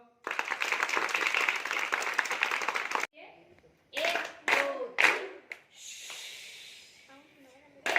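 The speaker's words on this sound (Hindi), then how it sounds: "ताली बजाओ।" Children at a government primary school summer camp in Rudraprayag clap together in a fast, dense burst of rhythmic claps for about three seconds, followed by breathy noises, shuffling and scattered vocal sounds.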